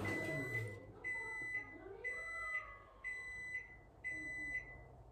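A microwave oven gives a series of short electronic beeps at an even pace, about five pairs in a row, clear and close, following a brief clatter at the start.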